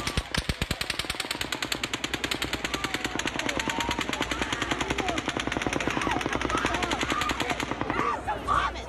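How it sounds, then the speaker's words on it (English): Rapid automatic gunfire during the Las Vegas mass shooting, one long sustained burst of sharp repeated shots that continues for around eight seconds before cutting off, heard from a distance with faint voices and commotion at the end. "But then, a sixth burst of fire."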